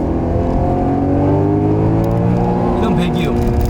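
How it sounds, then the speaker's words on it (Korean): Naturally aspirated V8 of a Maserati GranCabrio convertible gives a steady, droning exhaust note while driving. It holds a continuous engine tone with shifting harmonics and sits close and loud, with some voice-like content in the mix. "이런 배기음"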